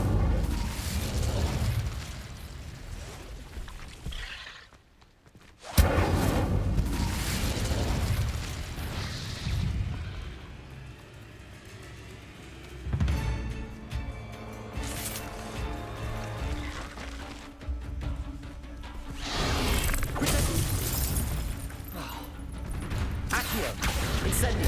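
Fire spell blasts in the video game Hogwarts Legacy: repeated loud whooshing bursts and booms with crackling tails, separated by a brief silent gap and a quieter stretch of magical ringing tones.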